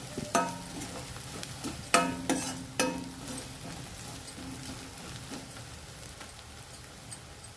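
Ginger garlic paste fries in a pan while a spoon stirs it, giving a few sharp scraping strokes near the start over a soft, continuous sizzle that fades to a quiet crackle.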